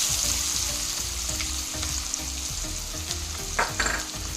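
Onions, a cup of them, hiss and crackle in hot oil for an egg and cashew masala curry, a steady close sizzle with low rumbling bubbling and a couple of quick stirring scrapes near the end, no speech.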